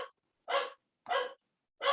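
A dog barks three times in quick succession, loud and close, each bark short and sharp with clear gaps of silence between them.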